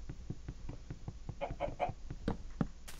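A chicken in a pen in Minecraft clucking in a quick series of short, close clucks, a few rising louder midway before a final squawk.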